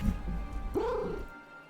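A cat in the video game Final Fantasy XIV lets out a single rising-and-falling meow, fairly close and clear, over a low background hum.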